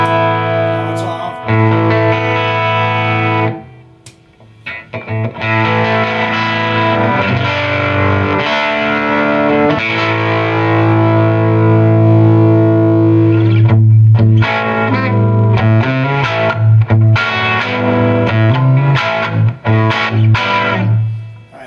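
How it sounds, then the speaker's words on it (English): Electric guitar through an IronHorse Heritage 1x12 combo amp pushed into heavy overdrive, with thick distorted chords and sustained notes ringing loud for about twenty seconds and a brief pause near the start. "That's some pretty intense overdrive."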